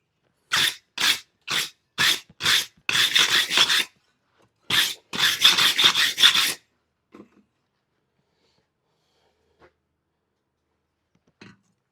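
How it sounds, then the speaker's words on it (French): A wire brush scrubs a hot sandwich Damascus steel billet in about a dozen quick, rasping strokes, some single and some in fast runs, before the work goes quiet apart from a few faint taps. "je vais mettre un coup de brosse tant que j'ai de la température"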